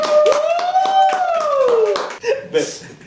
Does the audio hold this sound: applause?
yes